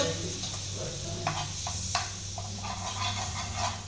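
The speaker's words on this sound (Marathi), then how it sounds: "ती पाव नेहमी हिची भाजत असते म्हणून लागली भाजायला." Pav bread toasting in a pan at home gives a soft, steady sizzle with a few scraping stirs, heard quietly and continuously throughout.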